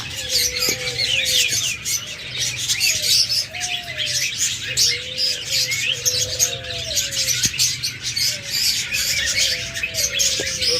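Caged budgerigars and cockatiels in a breeding setup chirp and call repeatedly, short whistled notes and tweets rising and falling over a dense chattering backdrop, with a low cooing hum beneath.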